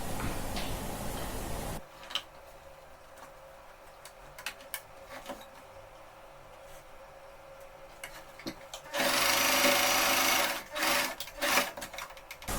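A domestic sewing machine stitches a folded cloth face mask along its wrong side, running in two loud sustained bursts with quiet ticking and handling clicks in between.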